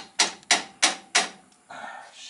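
A hammer strikes a truck's fuel filter four times in an even rhythm, sharp metallic bangs at close range, followed by a duller scraping shuffle.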